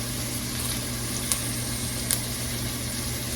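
Onions frying in butter in a pan give off a continuous, even sizzle at close range, with a couple of faint clicks and no talking.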